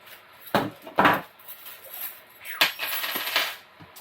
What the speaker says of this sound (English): Drop some stuff on the floor.